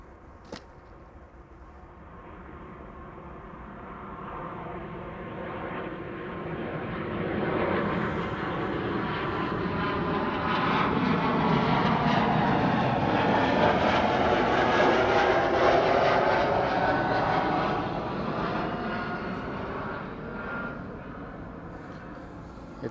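A jet airliner departs Amsterdam Schiphol for Bucharest, its engine roar swelling from a distance to a loud, broad peak mid-takeoff, then slowly easing away as the aircraft climbs out.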